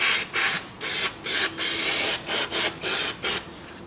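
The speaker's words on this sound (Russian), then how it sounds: "Смазываю силиконовой смазкой." Silicone lubricant sprayed from an aerosol can onto a rear differential mount bushing of a 1998 Toyota Mark II JZX101, a run of close, loud hissing bursts of varying length separated by brief pauses.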